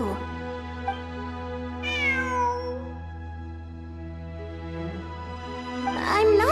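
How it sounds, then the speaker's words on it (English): Cat meowing in the Genshin Impact video game, set in a ruins exploration event, with a few soft meows over a steady game music bed. "It really is a cat."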